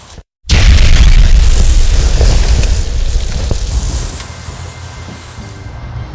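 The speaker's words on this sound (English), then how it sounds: "I used some dead leaves and flour as my first explosion." An electric-triggered PVC air cannon charged to 50 psi fires a load of dead leaves and flour outdoors, a sudden loud close boom after brief quiet, followed by a long rumbling decay.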